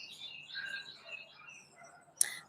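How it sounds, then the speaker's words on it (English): Birds chirp outdoors in soft, scattered calls, faint and fairly distant, with a brief sharper chirp near the end. "I don't know if y'all can hear the birds."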